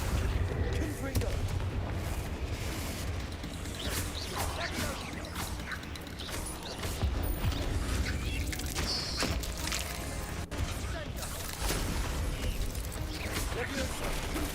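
In a video game, the Confringo spell is cast repeatedly and bursts into booming explosive blasts. The blasts sit within a dense, loud, continuous roar of game noise, and a voice talks over it.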